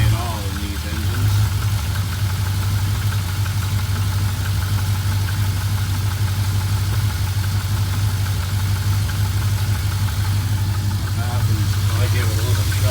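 A cold engine idles steadily just after starting, a loud, constant low rumble with a faint knock, close by and unbroken throughout, with no voices.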